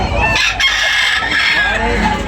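A rooster crows loudly and close by, one long full call among chickens of various colours offered for sale, with faint farmyard noise underneath.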